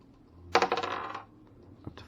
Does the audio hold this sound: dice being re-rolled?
yes